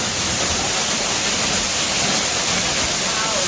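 Underground waterfall inside an old mine, where a stream pours down a shaft from the surface into the level: a loud, steady, broadband rushing roar of falling water, constant and close, with no speech.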